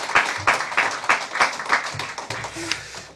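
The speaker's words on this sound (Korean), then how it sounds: "우리 격려의 박수 한번 하겠습니다" A church congregation claps for its choir during a Sunday service, a short burst of rhythmic, fairly close hand claps that loosens into scattered softer claps.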